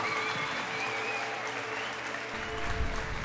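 Steady, dense applause from a live concert audience on a Desde Cero tour show, clapping filling the space evenly throughout with a faint tonal hum underneath.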